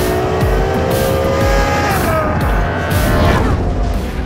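Loud, close V12 engine of a 2017 Ferrari GTC4 Lusso roaring under acceleration, with rising and falling tones, a brief tire squeal and a continuous dense mechanical wail throughout.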